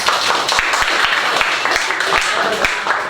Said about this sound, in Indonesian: Silakan kembali, tepuk tangan dulu Jidan.